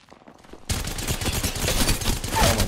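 A Havoc rifle fitted with a turbocharger in Apex Legends opens up after a moment of near silence, pouring out a sudden, loud, unbroken stream of automatic fire for about two seconds.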